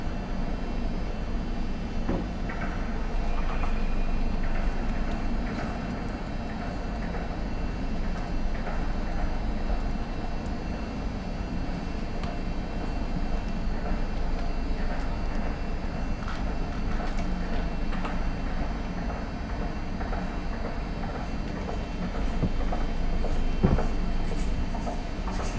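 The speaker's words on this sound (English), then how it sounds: "This is sound recording from research that I did in railway stations." Railway station ambience heard from a bench in a tucked-away spot, a continuous low rumble of rail traffic with faint clicks and clatter, steady and moderately loud for the whole stretch.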